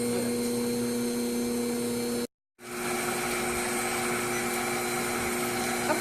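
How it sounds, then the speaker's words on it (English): An electric stand mixer with a paddle attachment beating butter at medium speed gives a steady, even motor whir. It cuts out for a moment partway through, then resumes at the same level. "we are first going to begin by beating the butter in the mixer with the paddle attachment or one of the mixer attachments on medium speed"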